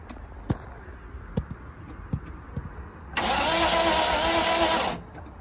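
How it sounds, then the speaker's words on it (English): A Datsun 280Z engine, with a jumper wire standing in for the starter relay, cranks over on the starter after some faint clicks and knocks, a rapid loud churning lasting about two seconds before it stops. "Cranks right up."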